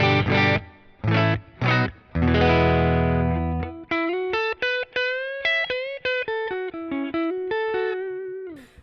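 An electric guitar with humbucker pickups played straight into an amplifier: heavy distorted chords strike first, then a run of crisp single notes and bends ringing out.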